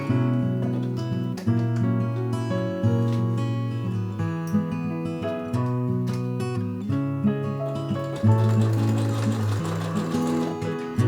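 A sewing machine runs in close, loud bursts, stitching black-threaded mending on a handmade garment. Its motor whirs and its needle chatters rhythmically, with brief pauses between runs and no voices.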